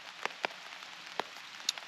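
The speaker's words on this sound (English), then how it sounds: "So it's starting to rain, actually. Nice little sprinkle with breakfast." Light rain sprinkles onto a tarp over a picnic table at a lakeside campsite on Lake Huron in fall, with scattered sharp drop taps against a faint steady patter, close by and quiet.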